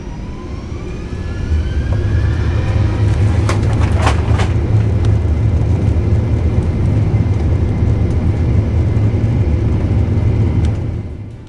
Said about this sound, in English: It was a pretty fast takeoff out of Seattle.